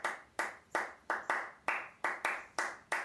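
Hands clap out a syncopated pattern of about nine crisp claps, mixing quarter and eighth durations. The claps sound close and dry with slight room decay, and no speech is heard.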